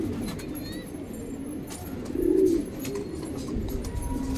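A pigeon coos once, a low soft burst midway through, over a steady murmur of background noise.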